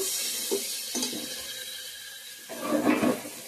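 Water is poured into a pan of chicken that has been sautéed in spices, giving a short splashing, running pour that swells near the end after a few softer clinks and quieter moments.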